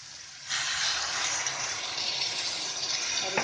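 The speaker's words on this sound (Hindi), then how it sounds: "अब थोड़ा सा इसमें पानी डालेंगे हम" Water poured into a jackfruit masala curry in a pan, a sudden steady hissing gush that starts after a half-second and continues evenly to the end, close and alone.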